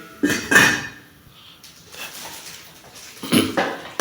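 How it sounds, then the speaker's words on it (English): A lid set onto a pot of simmering githeri, the Kenyan maize-and-bean dish, in a home kitchen: two clattering metal knocks close together, then a quiet pause and a third knock. "So I'll cover this up so that it can just keep simmering a bit before I put in the githeri."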